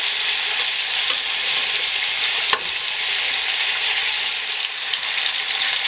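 Chicken pieces for cacciatore sear in a hot pan with a steady, bright sizzle throughout, close and even, with one brief sharp pop midway.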